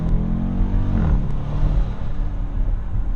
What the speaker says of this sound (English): I'm just gonna demonstrate how loud this SUV is.